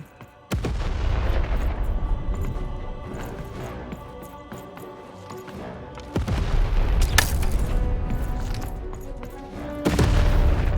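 Heavy cannon blasts in the video game Lost in Random, three loud booming shots spaced a few seconds apart, each followed by a rumbling tail under music.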